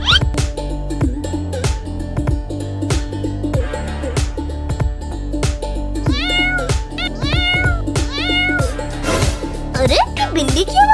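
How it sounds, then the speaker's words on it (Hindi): Cartoon cats meowing repeatedly, several kitten-like mews rising and falling over loud, bouncy background music, with other cartoon voice sounds mixed in. "ये बिल्ली की आवाज कहाँ से आ रही है?"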